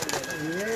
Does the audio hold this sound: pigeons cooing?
yes